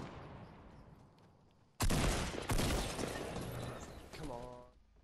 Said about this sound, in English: In the forest shooting at me.